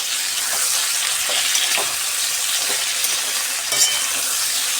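Vegetables and tomato fry in a pan with a steady close sizzle, while a utensil stirs and scrapes through them in occasional clinking strokes.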